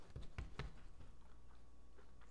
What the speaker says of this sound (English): I don't know if you can hear the crunch.